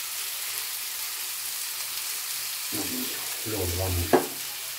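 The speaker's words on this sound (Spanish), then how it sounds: "La vamos a sofreír, echar un poquito de sal de momento" Pork ribs frying in a pan with broadband sizzle throughout, steady and close, with a few stirring clatters and a short knock near the end; a brief spoken phrase is heard.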